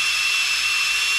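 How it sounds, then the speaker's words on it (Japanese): A power drill boring a hole during the restoration of a Rover Mini engine, a steady, loud, high whirring that runs unbroken throughout, with no talk. "穴開けようか。"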